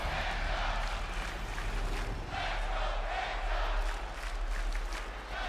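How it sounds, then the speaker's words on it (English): A crowd of wrestling fans in WWE 2K25 roaring and cheering for Penta, a dense, continuous arena-wide din that swells and dips slightly, with no clear talk over it. "the fans are cheering for Penta again"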